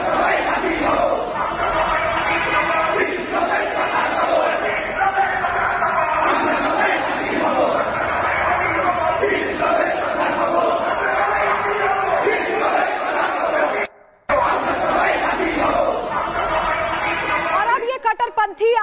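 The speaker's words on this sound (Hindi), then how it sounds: "ढाका की गलियों से निकलकर ये भीड़ आजादी की मांग कर रही है" A large crowd of radicals shouts slogans in the streets of Dhaka, a loud, dense roar of many voices that runs almost continuously, broken only by a short gap.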